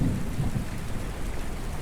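Steady rain falls with a deep rolling rumble of thunder underneath, a continuous close wash of sound with no voices.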